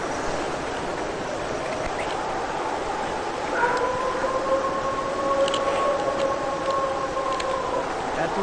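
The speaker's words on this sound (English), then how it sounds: "Sound like coyotes, yep. Like yipping sounds." Distant, drawn-out yips and wavering howls rise over a steady hiss of background noise, lasting several seconds.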